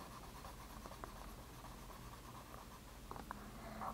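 Red marker or pencil colouring in the inside of a drawn fries pot on paper, a steady close scratchy rubbing with small rhythmic strokes, quiet and continuous with no talk.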